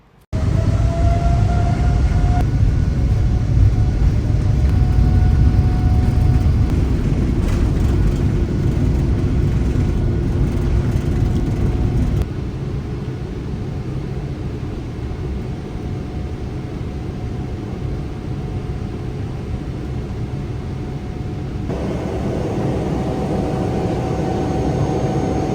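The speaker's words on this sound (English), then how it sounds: "eventually we arrived at the runway and were ready for takeoff" A Singapore Airlines jet heard from inside the cabin as it rolls down the runway for takeoff, with a loud, steady roar of engines and rushing air. The noise eases to a lower, constant drone once the plane is airborne.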